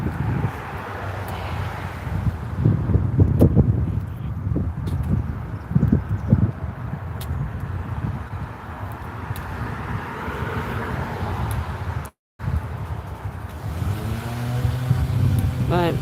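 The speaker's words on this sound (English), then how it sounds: "Let me know if the wind gets too much." Outdoor wind gusts batter the microphone in low, rumbling bursts, loudest early on, while a person talks at length over it.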